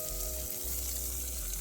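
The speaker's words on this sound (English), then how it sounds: "So now that my butter is cooking up" Butter frying in a pan with olives, tomatoes, jalapeno and onions at a campsite, a steady low sizzling hiss over a faint hum, brief and even.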